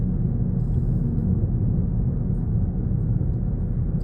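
Steady low rumble of road and engine noise inside a 2025 Toyota Corolla 1.5 moving at 50 km/h, a constant muffled drone with no talking or music.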